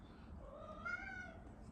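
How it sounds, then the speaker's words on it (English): A pet cat lets out one drawn-out meow with a rising and falling pitch, fairly faint against quiet room tone, with no talking. "that was my cat chiming in"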